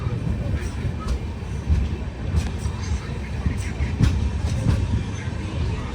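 13161 Tebhaga Express LHB train running on rails between Kolkata and Balurghat: a steady, close rumble and rattle of carriages with faint clicking joints, continuous throughout.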